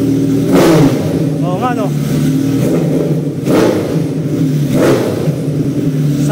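Kawasaki ZX-14R motorcycle with a straight-pipe exhaust revving loudly nearby, three sharp throttle blips rising over a steady rumbling idle, with people talking throughout.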